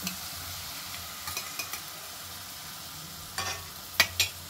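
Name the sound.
tomato added to frying spring onions in a pan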